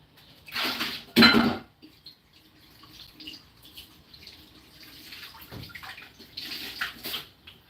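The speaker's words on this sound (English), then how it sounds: "So now this is soapy, so I'll rinse it again." Running water splashes over a soapy item being rinsed, close bursts of tap flow with clinks of dishes and drips between them.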